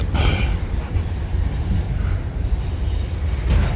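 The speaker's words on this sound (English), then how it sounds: "It's a train." A train rolls past a house, its heavy low rumble and rattling cars steady and loud throughout, with wheel noise swelling at the start and again near the end.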